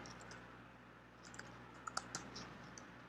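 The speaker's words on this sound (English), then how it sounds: "We are going to type" A few light computer keyboard keystrokes while a command is typed to start a Node server, sparse faint clicks over a steady low hum, with no talk.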